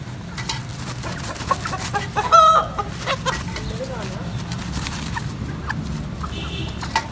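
Hens cluck and squawk in the background, with one louder burst of alarmed clucking midway, amid steady outdoor noise.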